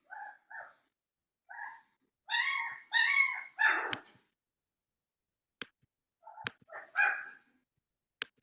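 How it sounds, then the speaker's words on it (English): Puppies indoors at home let out a series of short, high barks and yelps in uneven clusters, fairly faint and alone against a quiet background, with a few sharp clicks between them. "Sorry, I have puppies at home."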